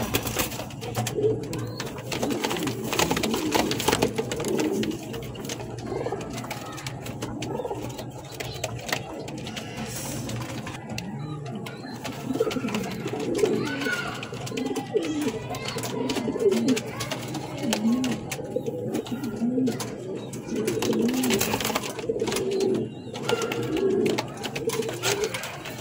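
King pigeons, a blue bar running pair, coo in low repeated throaty phrases that run steadily throughout, with soft rustling and other birds faintly in the background.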